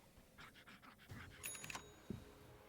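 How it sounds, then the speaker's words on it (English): Quick, breathy panting from a small dog after running, a few faint rhythmic huffs close by, followed by a brief sharper sound. "You hear that little doggy? He was running. He was panting his breath out."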